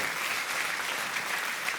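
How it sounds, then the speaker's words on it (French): Church congregation giving sustained applause for those who serve, a dense, even roar of many hands clapping throughout, loud and continuous with no talking. "est-ce qu'on peut applaudir tous ceux qui servent avec amour"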